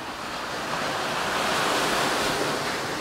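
Morning ocean surf on a Dauphin Island beach, a steady wash of breaking waves mixed with wind rumble, fairly close and unbroken, with no voices.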